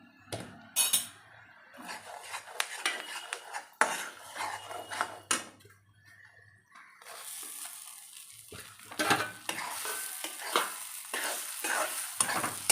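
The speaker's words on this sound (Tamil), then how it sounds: "இந்தமாரி எல்லாத்துலேயும் படுற மாதிரி நல்லா வ கலக்கி விட்டுக்கணும்" Mini idlis are stirred with idli podi in oil in a pan, a spoon scraping and clinking against the metal while a soft sizzle rises and steadies in the second half.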